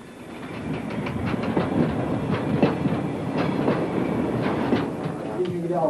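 A freight train enters a track at Maschen freight yard, a steady rolling rumble with repeated wheel clicks over rail joints, continuous and fairly close, with faint speech underneath.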